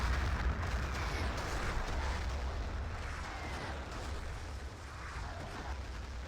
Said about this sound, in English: Artillery gonna land, this time from Eclipse.